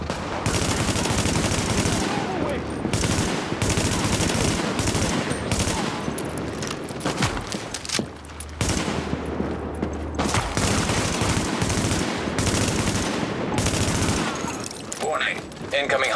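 Sustained automatic gunfire in The Division video game, loud continuous bursts of rifle and machine-gun shots with brief pauses, overlaid by a voice speaking.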